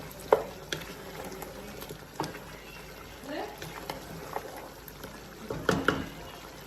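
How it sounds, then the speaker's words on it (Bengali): Beef being stirred and fried with garam masala in a pot, with intermittent scraping stirs and a faint, soft sizzle under quiet background noise, plus a few sharper clinks near the end. "এখন কিছুক্ষণ নেড়ে চেড়ে আমরা কষিয়ে নেব।"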